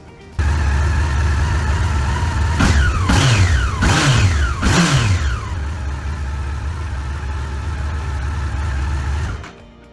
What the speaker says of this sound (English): give it a few revs, let it settle